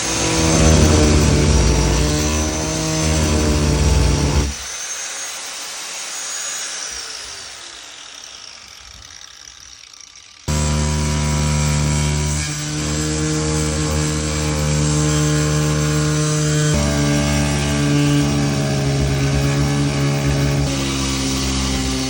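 A power tool cuts into the fiberglass hull of a Hydrostream VKing boat, its loud, close motor whine dropping away mid-clip before surging back to a steady high-pitched grinding roar.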